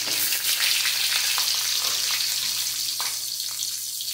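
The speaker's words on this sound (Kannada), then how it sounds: "ಹಸಿಮೆಣಸು ಬೇಯ್ತಾ ಇದೆ ಇದನ್ನು ಇದಕ್ಕೆ ಹಾಕಿ ಇದು ಸರಿಯಾಗಿ ಫ್ರೈ ಆಗಬೇಕು" Green chilies sizzle in a pan of hot oil with cumin while making drumstick-leaf chutney, a steady broadband frying hiss running throughout with faint stirring clicks, close and fairly loud, with no talking.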